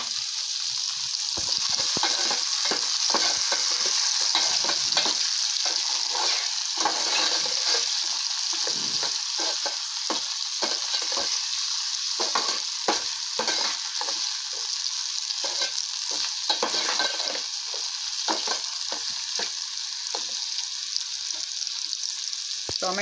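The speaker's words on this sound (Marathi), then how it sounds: "आता मी त्यात टाकते बारीक चिरलेला टोमॅटो" Chopped tomato frying in a pan for a matki sprout dish gives a steady, loud sizzle throughout, broken by repeated stirring scrapes, with no talking.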